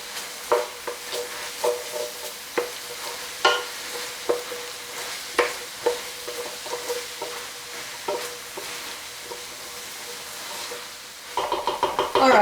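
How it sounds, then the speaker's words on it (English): A spoon stirs flour cooking in a pot for carbonnade à la flamande, giving irregular scraping knocks over a low, steady sizzle, with a brief louder burst of sizzling at the end. "So go ahead and get this mixed in. And we'll let the flour cook a little bit"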